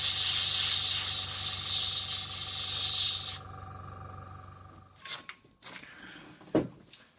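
An airbrush sprays a coat of paint on a scale model, a loud continuous hiss lasting about three seconds before it cuts off, followed by quiet handling clicks and knocks.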